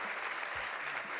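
Studio audience applause at a live Uruguayan television show, a dense steady wash of clapping filling the room from start to finish, fairly loud with no talk over it.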